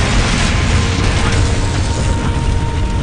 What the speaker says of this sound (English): Please do not look directly at the nuclear explosions.